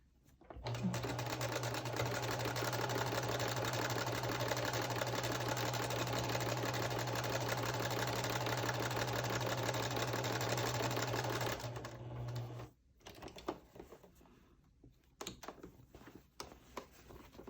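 A sewing machine runs a long continuous stitch along a quilt block seam, a loud steady mechanical whir held for about twelve seconds before stopping, followed by a few soft handling clicks and rustles.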